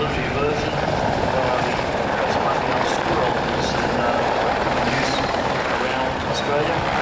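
A military helicopter flies over an air show at Avalon in 2009, its rotor producing a steady, loud chopping throb with a broad engine roar that holds throughout, while an announcer talks over the public address.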